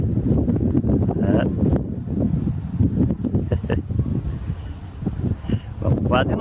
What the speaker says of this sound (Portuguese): começou o vento agora